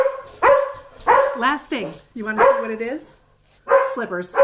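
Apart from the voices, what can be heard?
dogs barking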